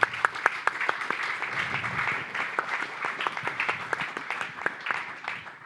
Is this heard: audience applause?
yes